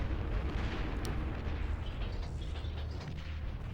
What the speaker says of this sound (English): We've got a bombing run coming from blue.